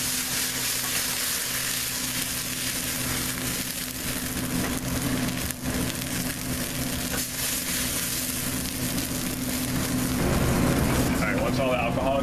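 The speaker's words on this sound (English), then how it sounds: "From here, add a little bit of marsala wine." Marsala wine sizzles with mushrooms and garlic in a hot pan, a steady broadband frying hiss that holds throughout and swells louder near the end, with faint background noise underneath.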